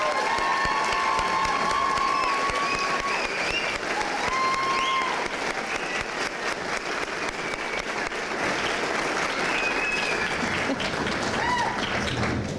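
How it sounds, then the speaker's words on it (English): A room full of people applauding and cheering women honorees at a community awards evening, sustained dense clapping with whoops and shouts over the top, loud and continuous for the whole stretch. "Can we give them all a big round of applause?"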